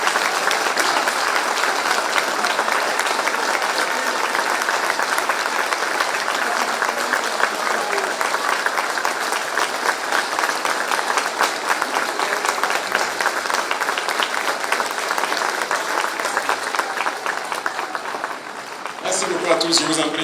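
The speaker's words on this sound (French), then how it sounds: "Donc une minute d'applaudissement." A large crowd claps for a full minute in honour of fighting forces at a presidential gathering in Burkina Faso's Yaadega region, with steady, dense, loud applause that dips briefly near the end before voices and clapping resume.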